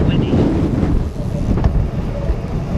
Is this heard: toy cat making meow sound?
no